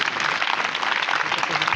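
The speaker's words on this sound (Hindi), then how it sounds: "जोरदार तालियां।" Audience at a school event applauding, a brief burst of dense, steady clapping from many people, fairly close and continuous.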